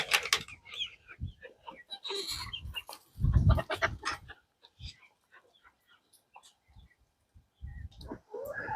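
Hens forage in a chicken composting yard, clucking and squawking in short, scattered bursts at close range, with quiet gaps between calls and faint talk.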